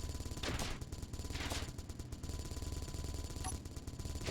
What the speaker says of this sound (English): There's a turret shooting at itself.